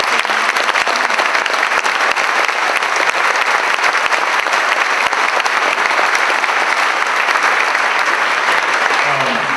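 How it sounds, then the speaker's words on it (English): A dense, steady round of applause from a large audience at the Dirty Kanza 2016 gravel-cycling rider meeting, loud and continuous for the whole stretch with no talk over it. "So let's give them all a round of applause."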